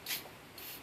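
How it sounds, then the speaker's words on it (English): Starting fluid from an aerosol can is sprayed lightly onto the back of Japanese ear tape during collie puppy ear taping, giving a short near hiss followed by a second, fainter burst. "I'm going to lightly spray the back of that with starting fluid."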